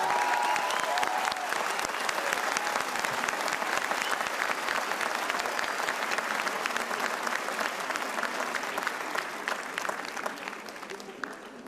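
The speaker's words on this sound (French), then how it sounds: "Je vous demande d'applaudir en direct ici" A large audience at a live show in Carcassonne claps steadily and enthusiastically, a dense wash of applause that carries on for several seconds before starting to thin out.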